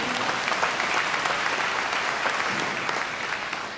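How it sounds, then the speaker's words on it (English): A high school graduation crowd claps steadily, dense and fairly loud, sustained for nearly four seconds before easing off slightly at the close, with no voices on top. "Y'all can clap for that."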